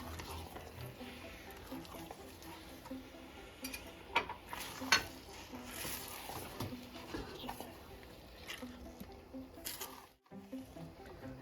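Cherry pie filling heating in a pot on medium while being stirred, a faint soft sloshing and patter with light scraping, fairly quiet and continuous.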